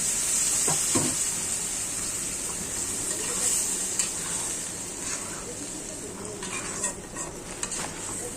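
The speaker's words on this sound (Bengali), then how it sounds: "মশলাটা ভালো করে কষাবো" Spices with chili and salt fry alongside jackfruit seeds in a pan, giving a steady hiss and sizzle broken by occasional stirring scrapes, with faint birdsong in the background.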